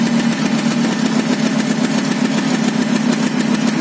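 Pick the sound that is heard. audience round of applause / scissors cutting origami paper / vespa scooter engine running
vespa scooter engine running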